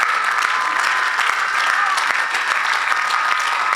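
A church congregation applauds during an evangelistic service, dense sustained clapping from a large crowd that fills the room steadily.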